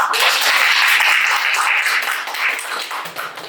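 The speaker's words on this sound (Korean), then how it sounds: "큰 박수로 환영하도록 하겠습니다" Dense, sustained applause from a large crowd welcoming a professor to a lecture, steady for several seconds before beginning to thin out near the end.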